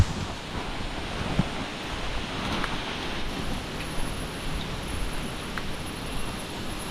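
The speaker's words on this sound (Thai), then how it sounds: "ลมเฮง" Strong wind blows outdoors as a steady, loud broadband roar with gusty swells and no pauses, and nobody speaks.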